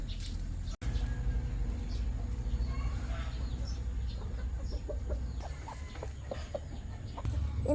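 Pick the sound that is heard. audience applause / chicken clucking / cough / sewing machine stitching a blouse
chicken clucking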